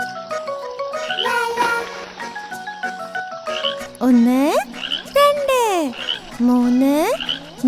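Frogs croaking in a cheerful children's rhyme, a run of loud, bouncy cartoon croaks rising and falling in pitch over a bright musical backing, close and clear with no singing over them.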